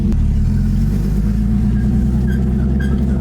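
A freshly rebuilt forged turbo M50 engine in a BMW E30 roars loudly and steadily, its low rumble rising slightly as it revs, close by and continuous throughout.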